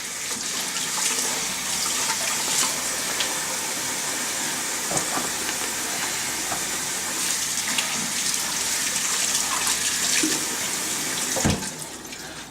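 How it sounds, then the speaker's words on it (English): Cold tap water runs steadily into a kitchen sink as two whole chickens are rinsed, a continuous close splashing hiss with small thumps and a brief louder splash near the end. "I'm gonna rinse them off in the sink"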